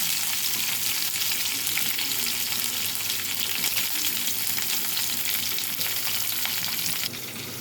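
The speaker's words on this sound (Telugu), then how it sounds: "ముందుగా తాలింపులు వేసాను. జీలకర్ర, తాలింపులు," Cumin, dried red chillies, curry leaves and onions sizzle in hot oil in a pan, a loud steady frying hiss with light stirring throughout, close up and without talk.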